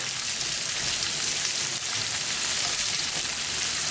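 Onions sizzle steadily in a hot pan as they soften for shrimp saganaki, a dense, even crackle of frying that holds throughout with no talk over it.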